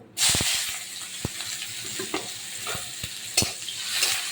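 Chopped onion dropped into hot oil already holding cumin seeds and bay leaf, giving a burst of loud sizzling followed by a steady fry hiss with spatula scrapes and clinks against the pan.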